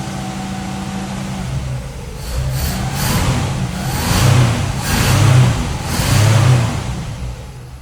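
A Chevy Nova with a Powerglide transmission runs on a homemade fuel cell, its engine idling steadily and then rising in several revving surges before settling, heard close up with no talking.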